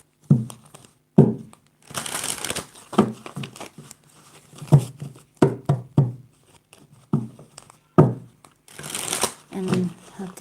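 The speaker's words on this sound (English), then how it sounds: "Let's shuffle the cards for Virgo." Tarot cards are shuffled in repeated bursts of riffling and slapping, with soft taps and crinkles between the bursts. The shuffling is close and fairly loud.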